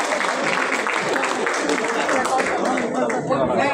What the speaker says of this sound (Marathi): इथे टाळ्या वाजवायच्या.